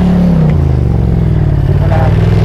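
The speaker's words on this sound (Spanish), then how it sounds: "Viene un coche, viene algo" A car approaches near a cave entrance, its loud, low engine drone rumbling steadily and close throughout, with only faint hints of voices underneath.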